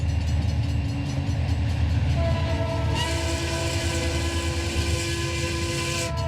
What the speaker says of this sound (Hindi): ट्रेन तो रुक भी रही है।